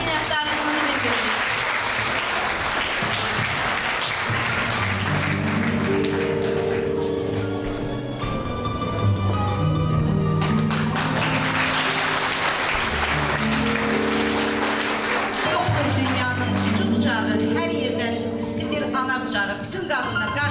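An audience applauds a literature teacher at a school literature evening. Steady, dense clapping fills the room for the whole stretch, with sustained musical tones running alongside.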